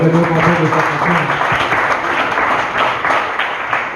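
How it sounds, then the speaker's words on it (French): Church congregation applauding together during a French-language worship service, a dense sustained wash of clapping with some voices mixed in, steady and fairly loud throughout. "Est-ce qu'on peut encore acclamer le Seigneur?"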